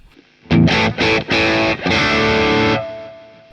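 Distorted electric guitar through a Boss Katana amp plays a few loud crunch chords, each ringing on with trailing stereo delay repeats that fade out after the playing stops.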